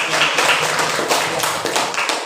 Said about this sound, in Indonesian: tepuk tangan dulu untuk kelompok 1 ya